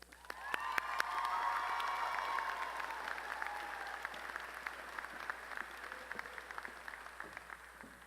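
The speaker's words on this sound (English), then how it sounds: "Please join me in giving a warm round of applause to our College of Business student speaker" Audience at a College of Business commencement ceremony at Lamar University breaking into applause, a broad wash of clapping with faint cheers that swells and then settles into scattered claps, fairly distant in a large hall.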